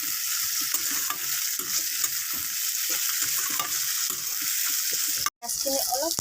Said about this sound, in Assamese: পিঁয়াজ আৰু নহৰু আদা গোটেইখিনি ভাজি ল'ম।